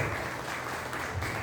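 Audience applause at a Lions Clubs district governor's visit: steady, fairly faint clapping from a crowd lasting the whole moment, with no voices over it.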